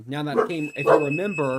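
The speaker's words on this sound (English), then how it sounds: "excuse the loud beeping in the background" Loud, steady electronic beeping tone rings in the background of a live news broadcast, running beneath continuous talk.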